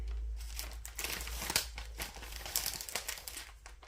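Plastic packaging crinkles and crackles as a cross-stitch kit of fabric and threads is unwrapped, close and fairly quiet, with continuous rustling and a few sharper tearing crackles.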